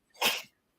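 A single sharp sneeze, close and fairly loud, bursting out in under half a second and then falling silent.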